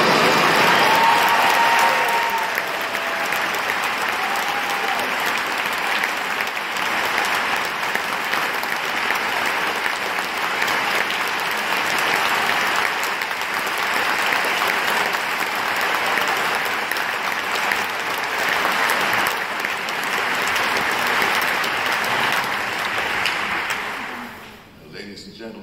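A concert audience welcomes violinist Itzhak Perlman at the Staller Center with sustained, dense applause that keeps up for more than twenty seconds and then tapers off at the end.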